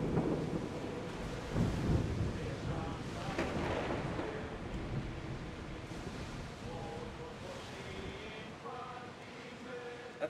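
Storm at sea in Assassin's Creed Odyssey, with steady rain and wind, rolling rumbles of thunder and surf washing around a ship, a dense continuous roar while people talk faintly underneath.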